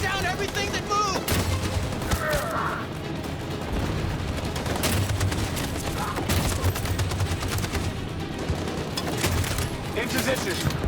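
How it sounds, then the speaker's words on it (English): Machine gun fire in the game Detroit: Become Human: continuous rapid bursts of gunfire with sharp cracks and booms across the whole stretch, mixed with battle noise and voices talking over it. "That machine gun is taking down everything that moves."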